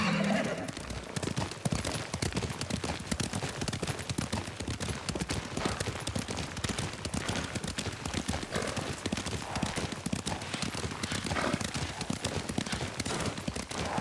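Rapid horse hoofbeats gallop continuously in the video game Ghost of Tsushima, a dense drumming rhythm with a brief whinny near the start and a faint voice underneath.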